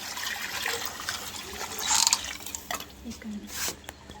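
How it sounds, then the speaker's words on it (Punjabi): A burnt iron wok is rinsed with plain water, giving splashing, trickling and dripping sounds with a brief louder pour, heard under a person talking. "ਪਹਿਲਾਂ ਆਪਾਂ ਇਹਨੂੰ ਸਿੰਪਲ ਪਾਣੀ ਨਾਲ ਤੇ ਇੱਕ ਵਾਰੀ ਧੋ ਲਈਏ"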